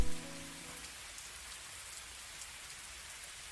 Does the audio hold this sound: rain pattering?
yes